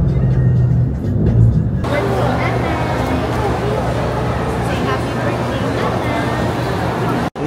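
Heavy, slow-moving traffic on EDSA highway: a dense, continuous roar of car and bus engines, fairly loud and steady, cutting off abruptly at the end.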